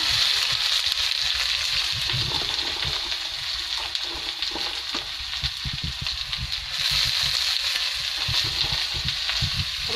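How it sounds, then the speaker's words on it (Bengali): Prawns and other ingredients go into hot oil for a Bengali kala bhuna prawn dish, setting off a loud, continuous frying sizzle with crackle and spatter that swells again near the end. "তো অলরেডি আমার তেল গরম হয়ে যাচ্ছে দিয়ে দিচ্ছি"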